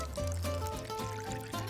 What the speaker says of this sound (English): if you pour the cold water in, and then you give it a little whisk